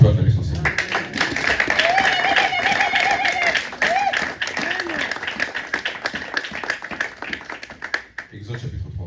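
A church congregation at a Sunday service applauds the Lord with loud, steady clapping that keeps going for several seconds, with voices and cheers mixed in, then fades toward the end.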